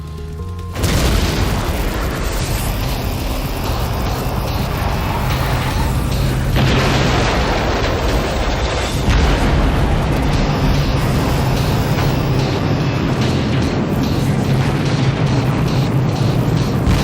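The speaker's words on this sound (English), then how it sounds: "Because these chemicals are highly flammable, the released vapor clouds cause secondary explosions." Massive secondary explosions from flammable chemical vapor clouds at an industrial site, a loud continuous roaring boom with deep rumbling surges that rise again midway and keep churning for many seconds.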